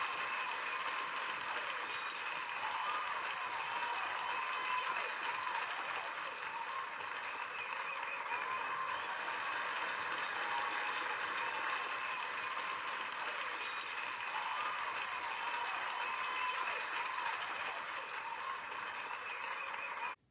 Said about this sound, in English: The cheering and clapping died away.